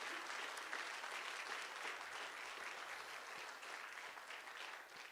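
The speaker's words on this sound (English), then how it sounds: "One more big round of applause for all of you." A large audience at a Canadian political event applauds in a sustained, even wash of clapping that stays dense and steady throughout, heard from some distance with no voices over it.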